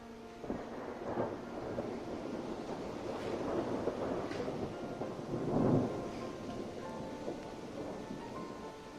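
Thunderstorm in Saint Petersburg during Cyclone Zelda with heavy rain and gusty wind: a steady wash of rain and wind broken by several rumbling thunder rolls, one heavier crack midway.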